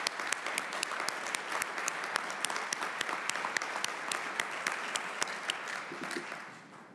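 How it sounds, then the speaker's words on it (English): Sustained audience applause for university students at a Board of Regents address, dense even clapping filling the room throughout with a few crisp nearby claps, tapering off at the end. "let's give them a round of applause."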